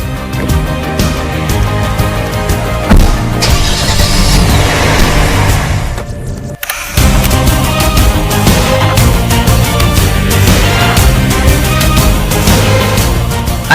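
A Kia Stinger drives hard around the Buddh International Circuit, its engine roaring loud and steady for the whole stretch, with a brief dip around the middle before the sound surges back at full volume.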